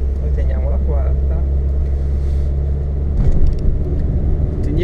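A car engine held in fourth gear with the accelerator pressed hard, a steady low droning rumble heard from inside on a drive toward Ponte di Legno, with people talking over it and the engine noise swelling slightly near the end.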